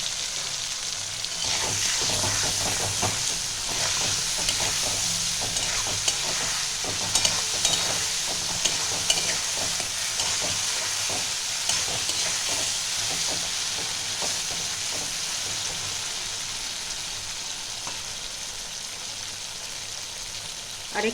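Mustard, cumin and chilli paste sizzles steadily in hot oil with lightly fried eggplant, a dense continuous hiss broken by frequent scraping stirs and small pops, close and loud throughout with no voices.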